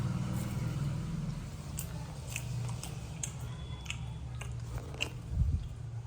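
Popcorn chewed close to the ear, with soft crunching bites repeating through the clip, a louder crunch near the end, and outdoor background noise in a farm field.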